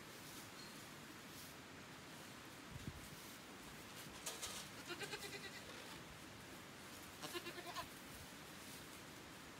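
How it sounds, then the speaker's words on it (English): Goats bleat a few times in short wavering calls over a steady background hiss, fairly quiet and with no talking. "Goats are nothing but hay wasters."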